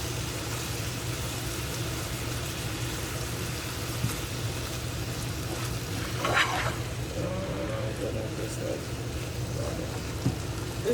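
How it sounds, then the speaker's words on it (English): Roast beef sautéing in a pan with onion, garlic and salt gives a steady, soft sizzle, with a brief stir or scrape near the middle. "It's just sauteing it up, adding a bit more flavor, salt,"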